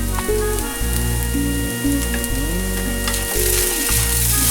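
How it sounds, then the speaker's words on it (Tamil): Poha upma with coriander leaves is stirred in a frying pan, giving a loud, close, steady sizzle over a constant low mechanical hum, with no speech. "அதையும் அப்படியே போட்டு கிளறி போட்டு இதை வைக்கலாம்."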